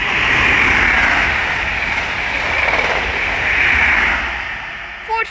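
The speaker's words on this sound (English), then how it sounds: "The next train to pass by is an East Midlands Railway HST" An East Midlands Railway HST passing at Elstow on the Midland Main Line, a loud, steady broadband roar of engine and rolling wheels sustained close by, easing slightly near the end.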